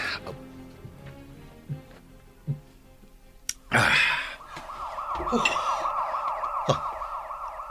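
A police siren wails steadily in a radio drama, its rising and falling tone entering after a sharp burst of sound and continuing loud and close to the end, with faint voices beneath.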